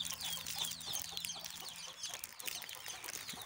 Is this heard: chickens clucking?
yes